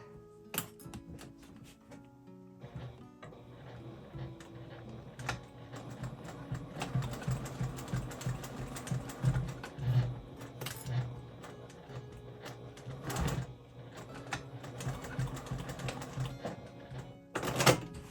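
A sewing machine stitching a second row through thick clear vinyl on a tote bag, with quick rapid needle clatter in runs and a few sharp clicks and knocks, fairly quiet and close up.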